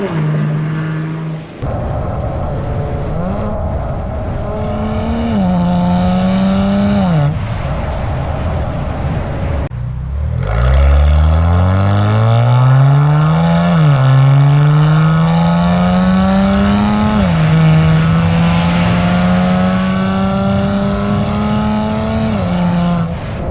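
Kia Stinger with a straight-pipe exhaust, loud and close, burbling at idle then revving up and down in repeated pulls with rising and falling engine pitch, no other sounds over it.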